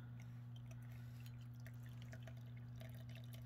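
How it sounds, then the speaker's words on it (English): Hot water poured over tea bags into a tiny teapot to steep, heard as a faint, soft trickle and dribble beneath a steady low hum, with no talking. "So let's just pour this water. We'll let that start to steep"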